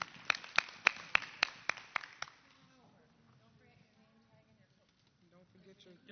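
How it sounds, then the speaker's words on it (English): Board of education meeting attendees give a short burst of applause, about eight sharp claps in quick rhythm lasting two seconds, then the room settles into quiet murmuring talk. "Let's all give a round of applause for our new board secretary."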